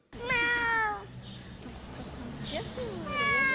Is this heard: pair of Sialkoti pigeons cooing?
no